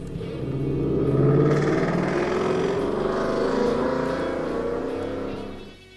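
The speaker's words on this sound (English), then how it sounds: "Really loud car going past." A loud car roars past up close, its engine noise swelling and then fading away over several seconds.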